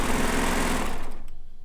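A sewing machine runs fast and steady while stitching the inner border seam of a Kaffe layer cake quilt, a dense whirring hum that slows into rhythmic pulses and stops as the seam ends.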